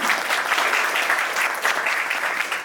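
An audience at a laptop product launch claps in a dense, steady burst of applause, close and even for a few seconds.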